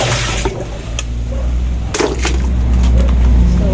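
Water gushing steadily from a hose into a plastic washbasin during laundry, a loud continuous rush with a few splashes and knocks.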